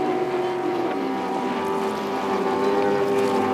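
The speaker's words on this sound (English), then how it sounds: "Then we've got our stock standard engines, the Mercury Pro XS, the Optimax, just leading the Evinrude E-Tech there at the moment" Outboard-powered racing boats with Mercury Pro XS, Optimax and Evinrude E-Tech engines at a Gold Cup race at Paynesville, a steady droning engine whine running loud and continuous throughout, with some wind noise.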